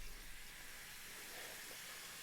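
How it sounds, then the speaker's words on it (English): Self-heating packet in a Baijia spicy vegetable instant noodle bowl reacting after cold water is added, giving a steady, soft steamy hiss with faint bubbling, continuous and close. "So this actually boils itself once you add the cold water."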